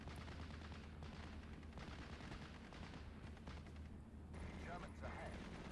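Half-tracks firing on infantry in the WWII strategy game Steel Division: Normandy 44, a steady dense crackle of distant gunfire under a constant low battle rumble, with no clear separate shots.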